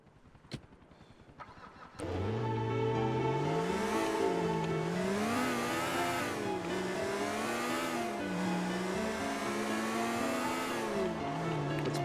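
A car engine in Grand Theft Auto IV starts up and revs steadily, its pitch rising and falling as it drives, loud and continuous after a short quiet start.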